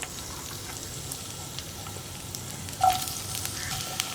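Cauliflower sautés in vegetable oil in a pan with a faint, steady sizzle that swells briefly near the end, with no voices.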